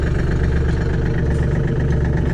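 A Yanmar 33 hp tractor with a cab idles just after starting, its engine a loud, close, steady low rumble with an even rhythmic chug throughout.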